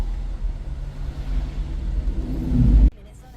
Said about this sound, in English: Good old morning traffic.